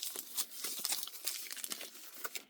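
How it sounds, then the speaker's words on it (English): Packing paper is rolled up and twisted by hand for rustic pumpkin decorations, giving a close, continuous run of crinkling and crunching rustles with sharp crackles throughout and no talking. "you're going to roll up your paper, and then you're just going to twist it and twist."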